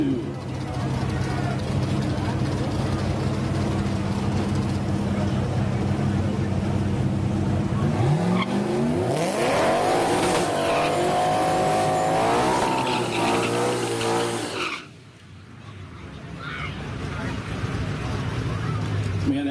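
A home-built 2015 Ford Mustang GT with a 302 engine at a drag strip, a loud engine roar that climbs in pitch through the gears before cutting off sharply. An announcer talks over it.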